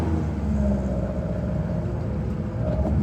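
Hot-rodded BMW 2002 idling and creeping in reverse, a steady low engine rumble close by with no talk over it.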